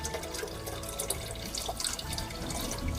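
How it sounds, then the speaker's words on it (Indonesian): Clean water pours into the reservoir tank of a coffee machine, a steady close splashing and trickling stream that runs continuously without pause. "Ini air dari air bersih ya, kita masukkan ke sini, kita isi dulu."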